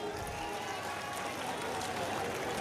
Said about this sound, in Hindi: एक बार जोरदार तालियों से माननीय राहुल गांधी जी का स्वागत कीजिए।